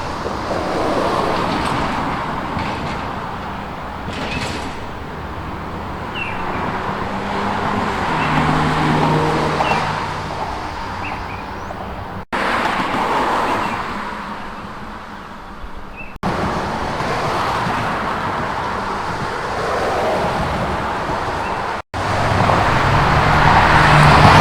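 Road traffic passes continuously near a garden gate, a loud steady rumble and whoosh of motor vehicles, rising and fading as they go by, with a few abrupt cuts and no talk.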